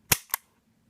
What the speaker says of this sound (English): You hear that reset? Audible and tactile. Very good reset on this gun.